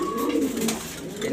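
A male grizzle pigeon sitting on eggs gives a brief, close, throaty coo that swells and fades within a second or so.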